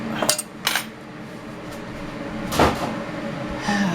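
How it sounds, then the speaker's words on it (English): Tattler canning lids, which are not magnetic, are lifted out with tongs, giving a few light metallic clinks and taps spread apart, with a brighter clatter near the end. "since the Tattler lids are not magnetic, I use tongs to get them out"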